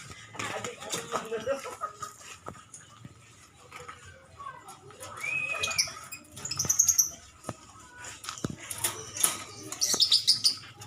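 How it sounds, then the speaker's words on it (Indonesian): Several birds chirp and tweet in short bright calls, scattered through the recording, with some quieter rustling and murmured voices in the background. "Wah, bunyi aja burung."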